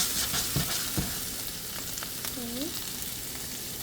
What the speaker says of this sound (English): This pan has been hot for a while, so I think it's safe to put my onions.